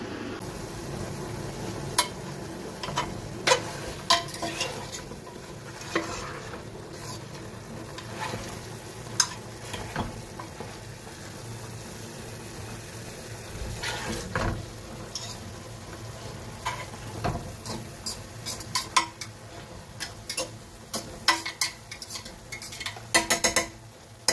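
Onions sautéing in a pan while Moroccan rfissa is cooked: a steady sizzle of frying runs throughout, with occasional stirring and light clinks of utensils against the pan, close and at moderate volume.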